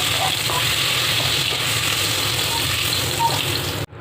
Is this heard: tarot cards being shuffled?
no